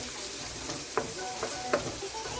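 Thyme and pimento seeds sizzle in hot oil in a pan for Jamaican curry shrimp, a soft steady frying hiss with a few light stirring taps, close and without talk.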